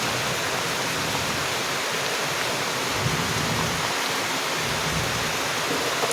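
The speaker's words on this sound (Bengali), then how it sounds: "প্রচুর পরিমাণে বৃষ্টি হচ্ছে, কিছু শোনা যাচ্ছে না।" Heavy rain pours down in a dense, loud, unbroken roar, drowning out everything else and holding steady throughout, with no voices.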